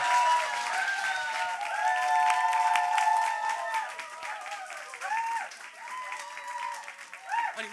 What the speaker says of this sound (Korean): 우리 팀 포니스트 여러분 큰 박수로 맞이해주세요